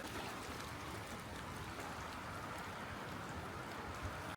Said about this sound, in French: il drache sévère et je crois même qu'il y a du vent